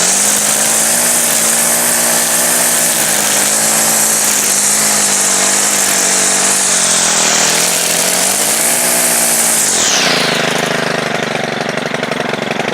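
A Stihl FS100RX string trimmer runs loud and steady at high revs while cutting, its engine note rising and falling slightly before dropping sharply to a lower idle near the end.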